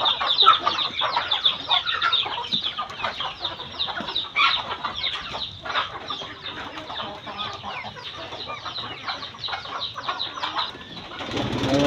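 Young chicks kept in an enclosure: a dense, continuous chorus of high, close peeping and chirping with rustling movement, steady throughout.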